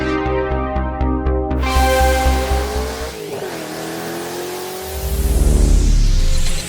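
A 1970 Camaro RS SS with a 7.5-litre V8 revs hard, the deep burbling idle climbing into a loud rising roar, dropping off, then surging again in a throaty pulsing rumble.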